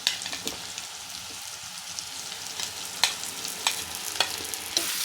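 Pieces of taro root fry with onions and asafoetida in a hot pan, a constant close sizzle broken by sharp clicks and scrapes of stirring, with no talking.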